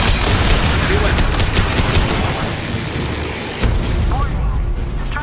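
Heavy weapon fire and repeated explosions rumble in a Mass Effect 2 battle against a dish's support struts, a dense, loud barrage of booms and gunfire that continues without a break across the clip.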